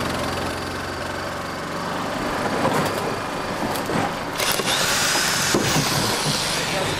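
A power drill shaving a black rhino's horn grinds steadily up close, its motor droning under rough scraping and whining, with brief louder bursts as it bites in.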